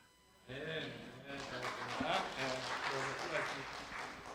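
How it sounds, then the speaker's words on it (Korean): Applause breaks out after a short quiet moment and carries on steadily, with a speaking voice and background music layered over the clapping. "이왕이면 좀 크게 박수 주세요"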